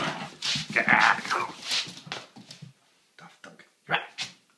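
A dog barks and yips in a series of sharp, close barks at home, with a short quiet gap before a few more barks.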